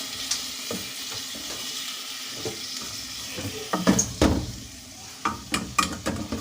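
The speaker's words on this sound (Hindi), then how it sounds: "और अब मैं इसे अच्छी तरह से भून लूँगी" Tori (ridge gourd) cooks in a pan with tomatoes, achar gosht masala and ginger-garlic paste, a steady close sizzle broken by scraping stirs and clatters, with no talking.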